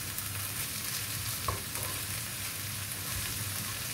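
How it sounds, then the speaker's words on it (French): Potatoes seasoned with sweet paprika and pepper cooking in a pan while being stirred, a steady soft sizzle under faint scraping and stirring, quiet and continuous with no talking. "on mélange nos pommes de terre là pour vérifier s'ils sont cuits ou pas"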